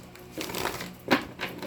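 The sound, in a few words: shuffling tarot cards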